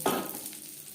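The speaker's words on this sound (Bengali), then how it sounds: "খুব অনেকটা সময় ধরে ভাজবার প্রয়োজন নেই হালকা করে ভেজে নেব" Cashews and raisins are lightly fried in a pan while making fried rice, a soft close sizzle that opens with a brief brighter burst and then settles into a faint steady hiss.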